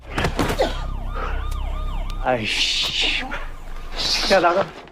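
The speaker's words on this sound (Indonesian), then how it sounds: "tiba-tiba terdengar suara sirine polisi yang membuat mereka langsung kabur" A wailing police siren sweeps up and down through the scene, mixed with loud dramatic sound effects and a low rumble.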